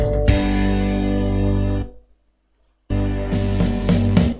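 A thick, buzzy synth note drones with heavy fuzz distortion, cuts off briefly into silence, then returns growling with extra wobbling grit.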